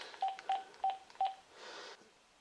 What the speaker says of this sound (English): I have a house phone. It is wireless, though. I'm going to call it.